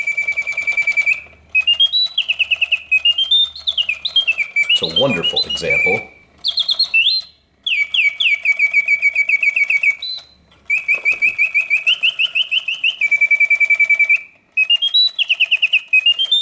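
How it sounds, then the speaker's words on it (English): Vintage Reuge double singing bird cage automaton producing mechanical bird song: rapid warbling trills and rising-falling whistles in continuous phrases with brief pauses, loud and close, with a short burst of man's speech midway. "the birds open and close their beaks, flap their tails, all synchronized to the oscillating bird song"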